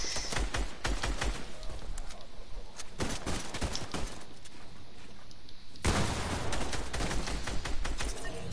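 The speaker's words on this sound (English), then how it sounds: "Oh, he's shooting." Rapid gunfire in Fortnite, a dense rattle of close shots running for several seconds, briefly thinning before a heavier burst resumes near the end, with no talking.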